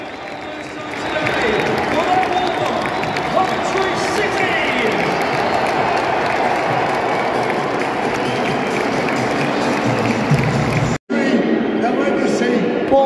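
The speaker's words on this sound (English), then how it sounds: "It's getting booed by all the Coventry fans." A large crowd of Coventry City fans at Wembley for an FA Cup match roars and boos in a dense, continuous wall of noise, loud and steady, with a brief cut near the end.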